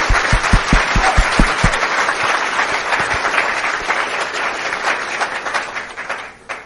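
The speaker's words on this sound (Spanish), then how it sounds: "Aplaudan otra vez. Aplaudam outra vez." An audience claps again with more energy, dense sustained applause that starts with a few loud distinct claps, holds steady throughout and fades out at the end.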